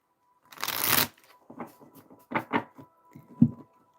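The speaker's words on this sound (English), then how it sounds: "We're going to shuffle these tea leaves." Tarot cards being shuffled close up, a dense riffle followed by several softer flicks and taps of the deck, with a faint steady hum underneath.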